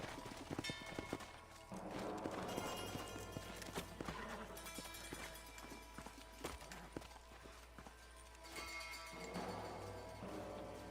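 Horse hooves clip-clop in Red Dead Redemption, steady and near under a dense game soundtrack and ambience, with a brief whinny.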